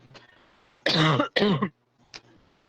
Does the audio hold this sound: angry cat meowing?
no